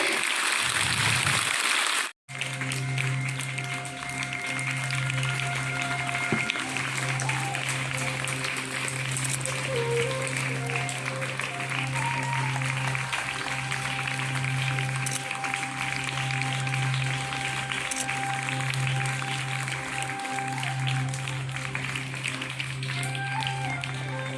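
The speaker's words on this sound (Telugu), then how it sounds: "అయితే మనం అందరం కూడా గట్టిగా చప్పట్లు కొడదాం ఒకసారి" Audience clapping at a school's International Yoga Day celebration, a steady, sustained wash of applause with a constant low hum beneath it, starting after a brief drop at the beginning.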